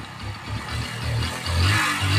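A motorcycle engine running on paint thinner as fuel idles steadily nearby with an uneven, pulsing low chug, alone with no voices.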